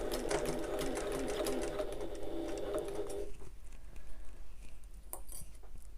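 A domestic sewing machine basting the fabric wings of a wallet into place, a steady close whirring run for about three seconds that stops abruptly, followed by quiet handling clicks and rustles.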